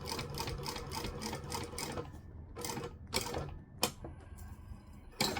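A sewing machine stitches fabric in short bursts of rapid, rhythmic clattering, pausing between runs, with a few sharper mechanical clicks close by.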